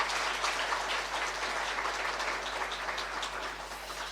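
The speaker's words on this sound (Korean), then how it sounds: "다시 한번 우리 뜨거운 박수로 한 번 더 환영하겠습니다." Members of a Korean church congregation applaud warmly to welcome visiting guests during a Sunday worship service, a dense, even clatter of many hands sustained for several seconds before tapering slightly.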